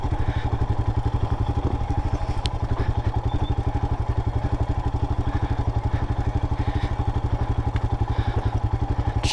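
A 2022 Royal Enfield Himalayan motorcycle rides off-road downhill in first gear, its single-cylinder engine thumping in a steady, rapid pulse close by with some mechanical clatter throughout.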